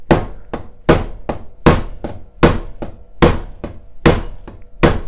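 A hammer repeatedly strikes a homemade rivet tool while leather saddle work is underway, about ten sharp, loud, close metallic blows at an uneven but steady pace, with no talking.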